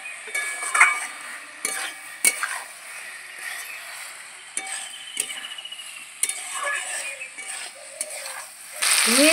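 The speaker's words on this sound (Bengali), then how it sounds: "ভেজে রাখা পটল আর আলু দিয়ে দিচ্ছি, ভালো করে কষিয়ে নেব।" Fried pointed gourd and potatoes sautéed in a pan for a Bengali vegetarian dish, with a soft steady sizzle under repeated scraping and stirring clatters of a utensil against the pan, close up, no voices.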